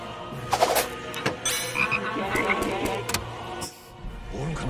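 Frogs croak in a series of irregular, fairly close bursts, mixed with other clatter and background noise.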